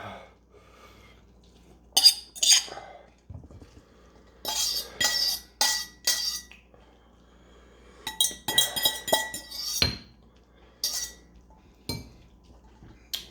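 A cooking pot is handled in a kitchen where spicy instant noodles are being made, giving sharp metallic clinks and clatters in scattered bursts with quiet gaps between them.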